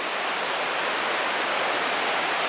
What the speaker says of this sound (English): the rapids on the river